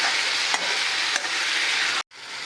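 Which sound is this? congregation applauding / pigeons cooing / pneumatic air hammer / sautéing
sautéing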